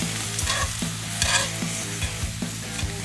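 Food sautés in a skillet over the fire of a PK 360 grill, a loud, close, continuous sizzle broken by the scrape and clack of stirring, with no talking.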